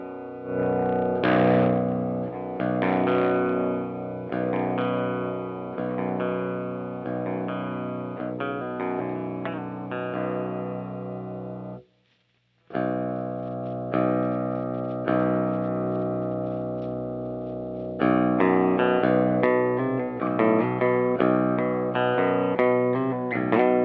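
Clean electric guitar played through a cheap PA powered mixer, steady strummed chords and picked notes ringing with a touch of echo, a brief pause mid-passage before playing resumes a little brighter and louder.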